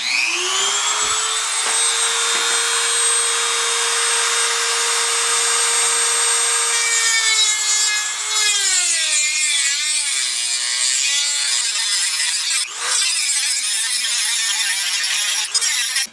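A larger cutting wheel on a grinder bites through metal while converting a 1986 Mustang GT to a 3G alternator, giving a loud, steady high whine that sags in pitch partway through and turns rougher and more ragged.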